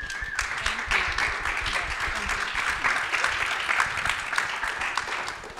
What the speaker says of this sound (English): I think they can all be applauded.